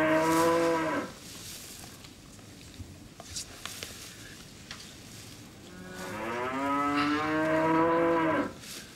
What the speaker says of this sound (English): You've been midwife to a cow before then, Peter.